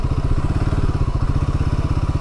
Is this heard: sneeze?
no